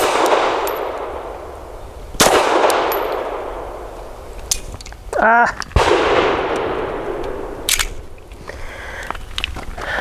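Tisas Bantam 9mm pistol fired outdoors: a few sharp, loud reports spaced seconds apart, with a metallic clatter between shots over steady background hiss.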